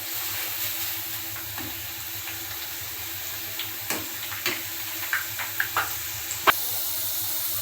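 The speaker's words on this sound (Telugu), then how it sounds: "బాగా వేయించుకోవాలి." Pakodi frying in hot oil, giving a steady close sizzle with scattered pops and crackles that grow more frequent toward the end, with no talking.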